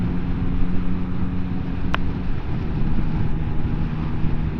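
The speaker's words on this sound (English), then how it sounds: "you've got a lovely sounding triple engine there" Engine of a 2024 Yamaha XSR900 GP triple-cylinder motorcycle at speed, a steady low drone heavily mixed with wind rush, with one brief sharp click partway through.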